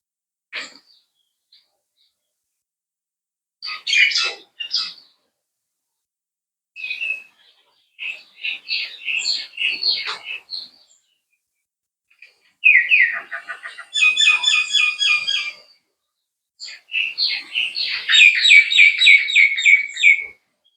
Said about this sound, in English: I don't know if you can hear the sounds of the birds around